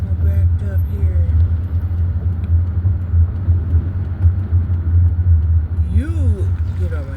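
Dense traffic rumble of cars backed up in a jam, a steady low drone of idling engines nearby with a brief rising whine near the end, no talking heard.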